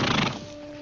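A horse gives a short, loud whinny close by with hooves clip-clopping, then the sound fades into a quiet, sustained tone, set in a 1950s Western about an Apache warrior.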